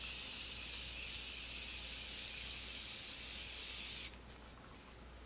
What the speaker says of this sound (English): and I'm going to spray my face.